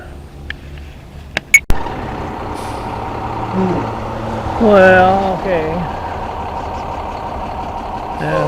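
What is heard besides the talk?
dump truck pulling a fuel tanker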